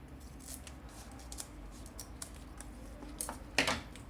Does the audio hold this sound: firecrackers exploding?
no